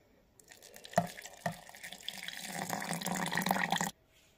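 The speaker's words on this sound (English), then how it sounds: "Add some lukewarm water." Lukewarm water pours into a blender jar holding a finger millet and banana mixture, starting with a couple of splashy drops before a steady, close trickling stream that stops abruptly.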